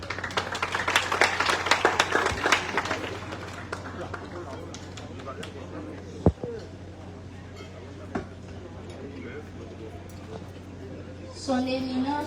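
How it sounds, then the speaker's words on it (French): Applause for a student speaker at a school centenary ceremony: a burst of many hands clapping that thins out within a few seconds into sparse claps and room noise, with a voice starting to speak at the end. "Je vous demande de l'applaudir,"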